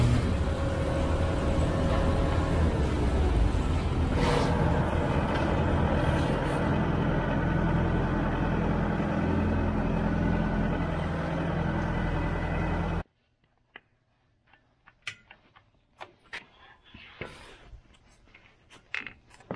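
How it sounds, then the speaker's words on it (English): A skid loader in a fabrication shop runs loud and steady as a heavy diesel engine rumble for about thirteen seconds, then cuts off abruptly, leaving faint scattered clanks and knocks in a quieter room. "We'll get the skid loader in here."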